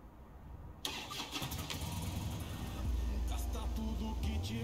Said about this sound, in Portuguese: Essa moto aqui.